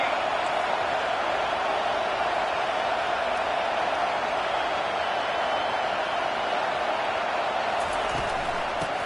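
Steady stadium crowd roar at a football game, a dense, continuous wash of voices holding at a constant level throughout, fairly loud and distant-sounding, with an announcer-style voice faintly underneath.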